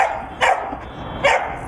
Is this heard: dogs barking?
yes